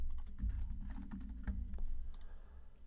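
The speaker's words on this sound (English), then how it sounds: "I'm going to just type in here, Cloud9" Quiet keystrokes patter on a computer keyboard in an irregular burst of taps, close and soft with low background hum.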